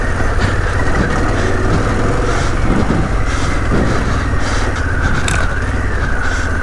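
A Harley-Davidson Pan America adventure motorcycle climbs a loose, rocky off-road trail in the Colorado Rockies, its engine holding a steady, continuous drone close by alongside rumbling wind and gravel noise, with no talk.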